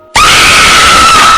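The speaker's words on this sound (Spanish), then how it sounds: "se escucha un terrible grito desgarrador" A terrible, heartrending scream sound effect bursts in after a brief silence and holds loud and sustained to the end.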